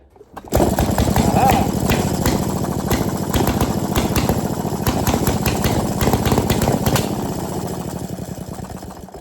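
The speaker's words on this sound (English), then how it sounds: "This is a 1917 Aero K2 canoe engine." A 1917 Aero K2 canoe engine starts and runs, a loud, close, rapid chugging beat that steadies after the first half second and fades slightly near the end.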